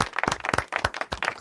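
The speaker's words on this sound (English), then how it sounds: "We're going to clap for Phil because he came on the show with a bun." Brief burst of audience clapping for a talk-show guest, several quick bursts of hand claps close to the microphone over about a second and a half, with no talk.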